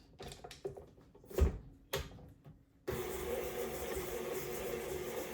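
Electric hand mixer creaming butter and sugar, starting after a few clunks and taps with a steady whirring buzz that runs continuously at moderate volume through the second half.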